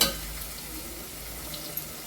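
Onions sautéing in a pan for sambar, a continuous soft frying hiss with no distinct stir strokes, close and steady.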